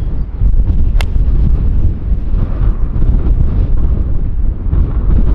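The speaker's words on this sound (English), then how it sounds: "It's so windy" Strong wind buffets the microphone on a golf course in a steady, loud low roar, with a brief sharp click near the start.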